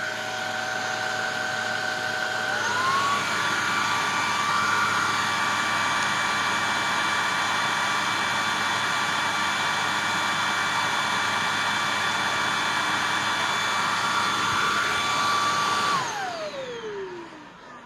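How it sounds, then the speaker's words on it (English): A vacuum cleaner with a powered brush roll runs in a steady, loud whine. Its pitch shifts upward as it switches from low to high power, holds evenly for about thirteen seconds, then winds down as the motor stops. "when you run the machine at a higher power level, the brush roll RPM slows down"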